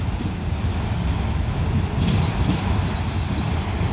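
CSX mixed freight train rolling slowly past on a long curve near a crossing diamond at Fostoria, Ohio, a loud, steady rumble of wheels and cars close by.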